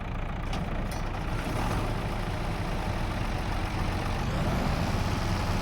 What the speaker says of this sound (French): On va juste allumer, démarrer le tracteur.